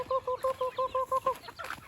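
A single chicken gives a quick rhythmic run of eight clipped, evenly spaced clucks, close by, then goes quiet.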